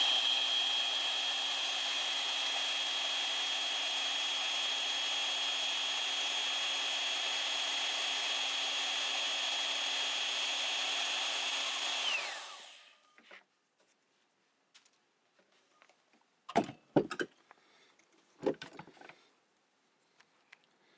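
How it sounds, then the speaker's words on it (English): A power tool cuts the head off a bolt in a loud, steady grinding whine for about twelve seconds, then winds down and stops, followed by scattered clinks and handling noises. "the first thing we're going to do is cut this bolt head off of here"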